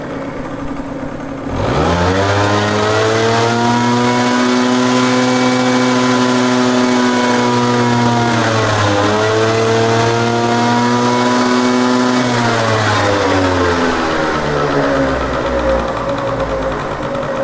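Peugeot Fox moped two-stroke engine with its air filter reinstalled, starting up and then held at a loud, steady high rev, dipping briefly in the middle before easing back down toward idle, close and without speech.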